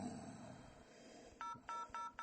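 A telephone keypad dials a short run of DTMF tones during an automated phone system's prompt, four or five clear beeps in an uneven rhythm after a stretch of faint line hiss.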